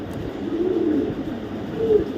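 A female racing pigeon cooing close by, two low soft coos over a faint background hum.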